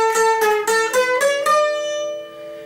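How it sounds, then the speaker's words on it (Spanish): Mixe jarana played with the pasoteado strumming technique: five quick bright strums in a row, then a ringing chord that decays, loud and close. "Tiene distintos elementos característicos como el pasoteado, que suena así"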